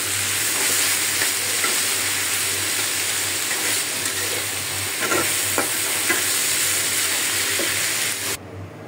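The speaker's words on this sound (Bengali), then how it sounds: "এখানে আর একটু করে নিচ্ছি করলা ভাজি।" Bitter gourd sizzles steadily as it fries in a pan, with occasional scrapes and clinks of stirring over a constant close hiss that cuts off abruptly at the end; no one speaks.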